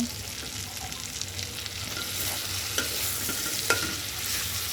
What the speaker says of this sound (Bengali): মাংস দিয়ে দিলাম। এখন মাংসটা ভালো মতো কষায় নেব।